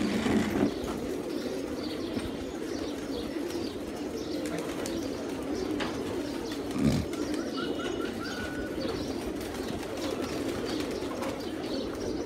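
Young and older pigeons in a loft coo in a low, steady murmur, with occasional soft wing rustles and brief chirps, fairly quiet throughout.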